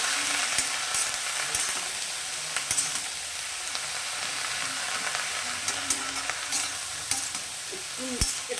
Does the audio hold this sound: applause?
no